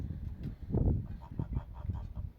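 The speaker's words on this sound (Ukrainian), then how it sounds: "Гуси вже хочуть залізти, бачите, але щось їх лякає." Several geese beside a small homemade backyard pond honk in short, repeated bursts at close range, one louder call standing out early, the rest moderate and uneven.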